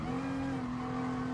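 A race car in the video game GT Sport brakes down into a chicane, its engine holding a steady high drone with faint tire noise over a short stretch, no talking.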